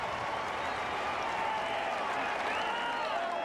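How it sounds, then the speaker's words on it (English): A packed stadium crowd roars at a 1997 college football game between Auburn and South Carolina, a continuous dense wash of yelling and cheering heard from a distance, with faint commentary voices beneath. "And listen to the crowd."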